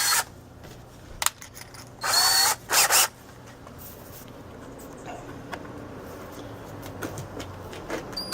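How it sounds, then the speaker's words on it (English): Two short bursts of a power drill widen pilot holes for threaded inserts, each lasting under a second, close and loud against a quiet room, with a sharp click just before them. "go ahead and widen out my pilot holes so that I can get my inserts in"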